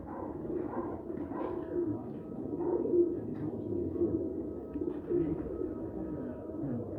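Teddy breed pigeons coo in soft, repeated low throaty phrases, close and fairly steady, with a faint muffled background.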